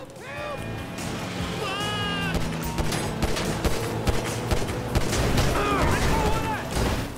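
Gunfire bursts in Grand Theft Auto V ring out continuously through a noisy driving scene, mixed with crashes and booms, while voices shout over the chaos.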